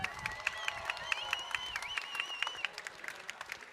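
Audience applause at a FIRST Tech Challenge robotics world championship, a brief spell of fairly faint, steady clapping from a crowd with a few whistles or cheers mixed in.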